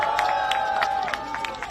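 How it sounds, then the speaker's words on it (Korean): An audience applauds and cheers at a political campaign rally, with dense rhythmic clapping that continues steadily through the short moment. "큰 박수 부탁드립니다"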